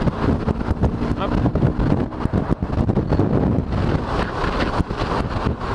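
Steady, buffeting wind roar from riding a motorcycle, broad and continuous throughout with a low engine drone beneath, loud and close to the microphone.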